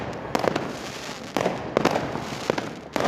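New Year fireworks and firecrackers burst in a series of sharp, loud bangs at irregular intervals, some close and some more distant, over a steady crackling rumble of celebration.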